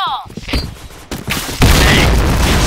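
A grenade detonates in the shooter Point Blank, a heavy boom that swells into a sustained roaring blast after earlier thumps and gunfire, with voices calling out over the action.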